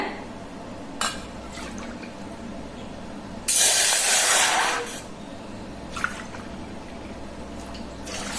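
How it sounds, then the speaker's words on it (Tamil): Water pours steadily into a cooking pot for mango payasam for about a second and a half, a bright rushing splash between quieter kitchen clinks. "மூணு கப்பு தண்ணி ஊற்றிக்கிறேங்க"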